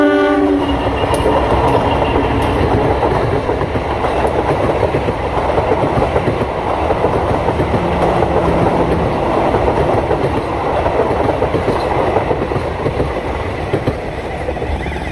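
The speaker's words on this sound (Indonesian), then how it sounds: "Oh, ada kereta dulu sobat." Train passing on a railway line beside a box girder installation site for the Jakarta-Bandung high-speed rail, a loud, steady rumble with rail clatter filling the whole stretch, close by and continuous.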